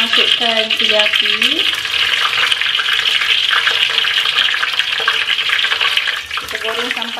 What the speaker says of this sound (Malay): Dan kita masukkan cili api.